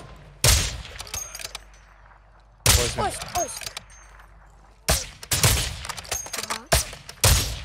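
Bursts of gunfire from computer-controlled enemies in Call of Duty Warzone 2.0 DMZ, several loud volleys separated by short pauses, with a player speaking briefly between them.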